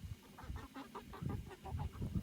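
A chicken in a homestead coop gives a steady run of short, rhythmic clucks, close and moderately loud over low background noise, with no talking.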